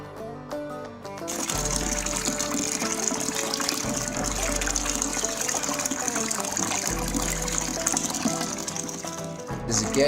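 Water gushes steadily into a home beer brewing fermenter being filled toward 23 litres, a continuous rushing pour with some music or background noise underneath and no break for most of the clip.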